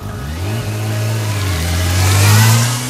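A car pulls up carrying a guest to a school, its mid-pitched engine revving and climbing as it draws near, loud and close, then easing slightly at the end, with no voices.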